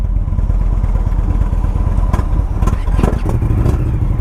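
A 2018 Indian Scout Bobber motorcycle engine runs loud and close with a steady, throaty rumble and a few brief rises in revs, no voices over it.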